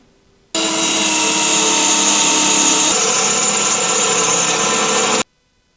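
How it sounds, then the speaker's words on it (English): A power drill bores a hole through an old steel RV step, giving a loud, close, steady whirring grind for about five seconds. It starts and stops abruptly, with a slight shift in pitch partway through. No one speaks. "Alright, we got all 4 holes drilled"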